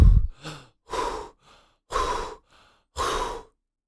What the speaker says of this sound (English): So I'm going to absolutely go for it with my breath holds. With my belly breathing.